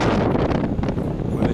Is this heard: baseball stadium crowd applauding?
no